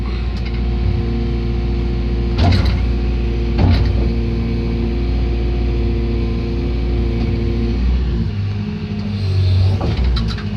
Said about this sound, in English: Okay, then you start driving forward and go up the big hump.